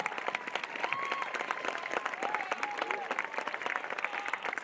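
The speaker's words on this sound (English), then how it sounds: "Please give them a round of applause." A graduation audience applauds the staff with sustained, crowded clapping, fairly distant, while faint voices and a few whoops rise over it.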